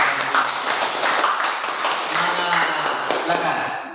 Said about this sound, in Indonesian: Tepuk tangan dulu untuk perwakilan.